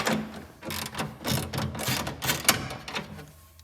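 A ratcheting wrench loosens a battery bolt on a power center with rapid close clicking in uneven bursts and short pauses between strokes.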